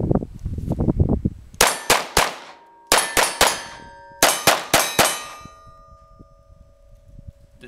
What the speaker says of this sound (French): des gongs qui vont rester fixes, on va simplement entendre le bruit